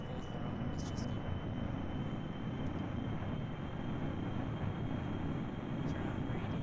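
A video game airplane engine held at full throttle, a steady loud broadband roar with low rumble that runs unbroken from start to end.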